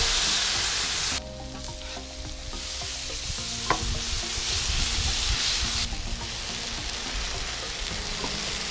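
Sirloin steaks sizzle steadily on a Blackstone flat-top griddle, a loud, continuous frying hiss with faint scraping and a few small pops, no voices.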